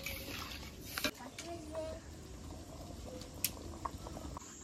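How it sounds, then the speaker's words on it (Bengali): Potato curry simmering in a pan after water has been added, a steady low bubbling wash with a few brief clinks, fairly quiet and continuous. "জল দিয়ে দিয়েছি, এবার তরকারিটা কিছুক্ষণ জাল হতে থাকবে"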